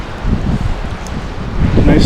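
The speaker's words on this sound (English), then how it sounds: "Holy moly, that wind makes things interesting, doesn't it?" Strong wind buffets the microphone on a riverbank along the Cowlitz River during a windstorm while steelhead fishing, a steady broadband rumble and rush that swells louder toward the end.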